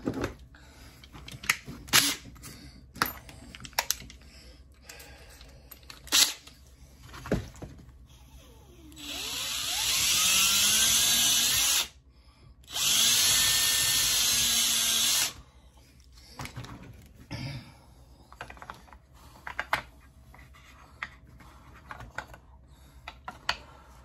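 Two sustained bursts from a power drill working on a Crosman 1322 air pistol, separated by a brief pause, with scattered clicks and handling taps before and after.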